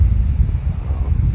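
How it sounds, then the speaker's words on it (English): Steady wind gusting through a tree at a deer hunting camp, a constant low rumbling rush with buffeting on the microphone, no clear individual gusts, no talking. "every now and then you get a pretty good gust that's making this tree rock and roll"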